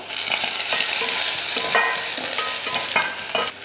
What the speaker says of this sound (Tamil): எண்ணெய் காஞ்சதுமே கொஞ்சம் கடுகு ஒரு அஞ்சு பல் பூண்டு இடிச்சிருக்கேன் அதையும் சேர்த்துட்டு அது கூடவே கொஞ்சம் கருவேப்பிலையும் சேர்த்துடலாம்